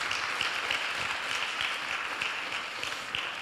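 Audience in a church youth winter retreat service clapping together, a steady dense wash of applause held throughout at moderate level with no talk over it.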